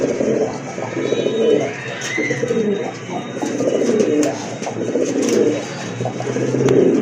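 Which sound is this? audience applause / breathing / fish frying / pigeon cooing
pigeon cooing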